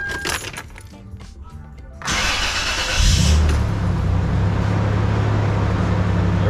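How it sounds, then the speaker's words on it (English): Keys jingle and click, then a pickup truck engine cranks and catches, settling into a steady low idle rumble close by. "see if we can start the truck and make sure we can still drive"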